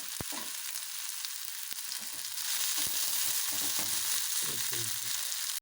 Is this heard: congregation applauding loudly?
no